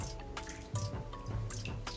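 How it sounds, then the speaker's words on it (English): Peeled cassava is rinsed by hand in water, giving close splashes, drips and sloshing bursts at an uneven rhythm, with no talking. "Clean them thoroughly with water"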